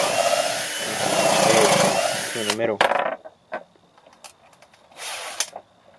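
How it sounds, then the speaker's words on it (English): A power drill bores holes through a sheet of plywood, a sustained whining grind that stops abruptly, followed by sparse clicks and knocks; a person speaks briefly in the middle. "Now this is the plywood, drilling 4 holes"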